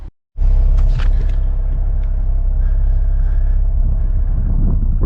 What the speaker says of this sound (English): We're driving up here,